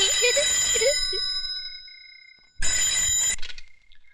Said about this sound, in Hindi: बज गई आपकी घंटी